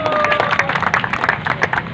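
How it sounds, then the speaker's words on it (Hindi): An audience at a village panchayat poetry gathering (kavi sammelan) in Nainod claps to welcome poet Atul Jwala, a scattered run of hand claps that stays moderate in loudness. "जोरदार ताली से स्वागत करें अतुल जी ज्वाला साहब का"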